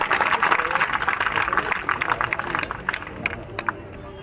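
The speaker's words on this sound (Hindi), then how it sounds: "एक बार जोरदार तालियां एमएलए साहब के लिए।" Crowd at a community gathering in Sanwatsar, Rajasthan, bursts into applause for an arriving MLA, with dense clapping that thins into scattered claps toward the end, with voices mixed in.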